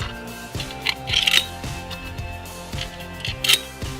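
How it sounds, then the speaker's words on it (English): Small metal screws from a solar pagoda piling light set are handled and slid into place in the fixture, giving a series of close, light clicks and taps in an uneven rhythm with no talking. "Then you'll take the screws and slide each one into place."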